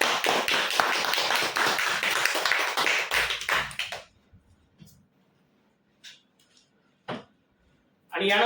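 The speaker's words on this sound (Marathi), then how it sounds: "जोरदार टाळ्या त्यांच्यासाठी." Applause for a winner announced at a prize draw for a furniture store's customers, loud dense clapping for about four seconds, then stopping abruptly and leaving quiet with a few scattered sounds.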